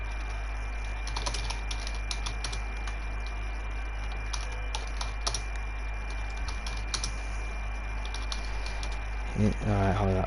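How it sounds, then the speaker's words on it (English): Computer keyboard typing a chat message during a sim-racing league broadcast, a steady run of quick clicks throughout, with commentary voices underneath. "Just typing a message into chat now."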